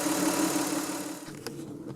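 A car engine runs steadily after a fuel pump replacement, a loud, even mechanical hum with a brief clunk near the end, no talking.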